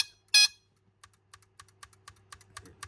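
A loud burst at the start, then a steady series of short, evenly spaced high beeps or clicks from a 1976 Mego Star Trek Super Phaser II toy, each faint and quick, with a low hum beneath.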